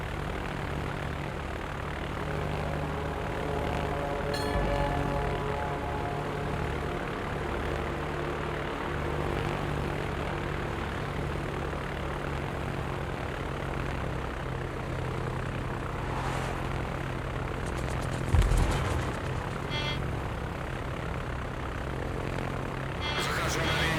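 A fighter aircraft takes off from an aircraft carrier in World of Warships, a steady propeller engine drone sustained throughout with a few brief sharper interface clicks over it.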